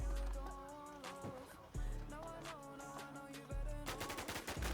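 Rapid automatic gunfire in a shooting video game, loud bursts that stop briefly and resume, with dense layered shots near the end.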